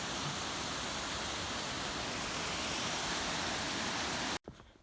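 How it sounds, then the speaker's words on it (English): Steady, dense roar of a waterfall about 15 feet high on Donahue Creek, heard up close and loud for over four seconds before cutting off abruptly near the end. "It's a nice waterfall"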